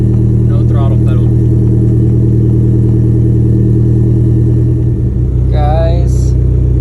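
A 600+ hp Hyundai Genesis Coupe idles with a loud, steady low rumble after repair of the throttle position sensor in its accelerator pedal, lifting briefly in a short rev near the end as voices talk over it.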